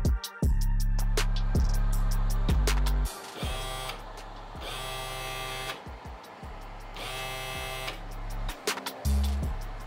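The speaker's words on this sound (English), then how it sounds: "When you short the enable pin and PWM pin, the motor should start spinning." A DC motor driven by a BTS7960 driver on a DIY gaming steering wheel whirs in repeated bursts, starting and stopping several times with a loud buzzing hum and clicks between runs.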